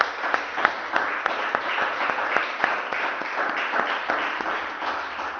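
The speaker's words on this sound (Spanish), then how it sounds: "Démosle un aplauso al Espíritu de Dios en esta mañana" A church congregation claps together in a sustained round of applause, with several hands standing out as sharp, distinct claps over a steady wash of clapping.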